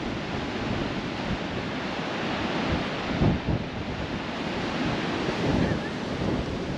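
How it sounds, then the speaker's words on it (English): Water surging and running over a rocky reef at Fowlers Bay on the South Australian coast, a continuous broad wash of surf with wind buffeting the microphone and a couple of louder swells. "That water running over the reef there."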